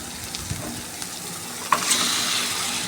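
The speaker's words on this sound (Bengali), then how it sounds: "মশলা থেকে তেল ছেড়ে দিলাম তারপরে চিকেনটা দিয়ে দেবো" Chicken pieces tipped into a pan of masala frying in oil, a steady broad sizzle with a sharper hiss and clatter near the end, close and fairly loud, no talking.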